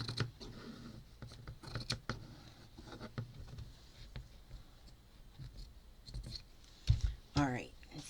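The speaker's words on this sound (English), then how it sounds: "I'm just going to cut it with the scissor" Scissors snip through fabric while a needle book cover is being made for a sewing project, with soft crisp cuts and scattered clicks under a low background hum and a brief voice near the end.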